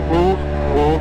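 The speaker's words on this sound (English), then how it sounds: "the two-stroke coming in" A two-stroke dirt bike engine revs up and holds a buzzy, rising whine for about a second, loud and close, with a brief dip before climbing again.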